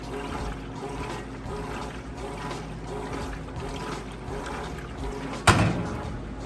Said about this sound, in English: See, the agitator's doing an excellent job.